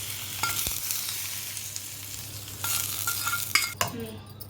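Semiya being stirred into yogurt for daddojanam, a soft scraping, mixing sound with a few louder clinks near the end, close by with no talking.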